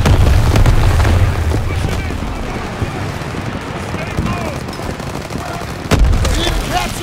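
Gunfire and booming explosions in the Call of Duty WWII video game during a battle at the Rhine, a dense continuous barrage of shots and blasts with a sharp loud hit near the end, while voices shout orders over it.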